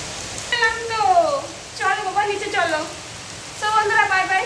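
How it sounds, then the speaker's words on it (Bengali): Heavy rain falls with a continuous, even hiss in the background while a voice talks in bursts over it. "বৃষ্টি হচ্ছে প্রচুর এখানে"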